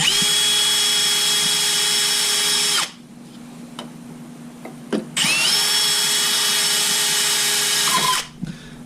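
A power drill whines loudly and steadily as it bores through wood, stopping briefly before spinning up again for a second long run.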